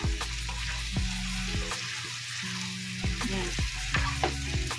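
Potatoes stirred into chopsuey in a hot pan with sautéed sayote, giving steady close sizzling broken by repeated scraping strokes of a spatula against the pan.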